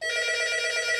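A telephone rings through a Yeastar TA100 analog telephone adapter connected to a Yeastar S Series PBX, giving a steady, close electronic ring tone with a rapid warble that lasts about a second on its own.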